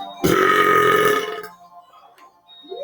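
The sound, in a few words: loud belch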